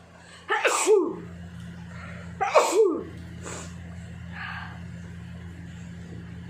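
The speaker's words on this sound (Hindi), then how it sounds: "चार छींकें होंगी" A woman sneezes after tickling her nose: two sharp, loud sneezes a couple of seconds apart, each with a quick intake of breath before it, then softer breathy sounds over a steady low hum.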